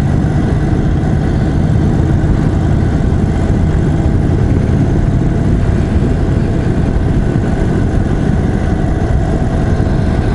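A 2021 Indian Chief Dark Horse motorcycle engine idles low and steady throughout, a constant rumbling drone with faint vibration and no change in pace.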